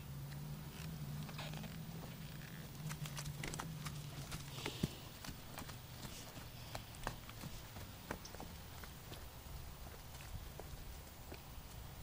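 Hooves of a Tennessee Walker horse clip-clop at a slow, steady walk around a yard, the faint, close thuds repeating in an uneven rhythm over a low background hum, with no talking.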